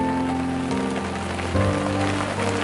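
Rain falls steadily at a campsite in the mountains at Gambung, making an even, close hiss of drops on a surface with no voices.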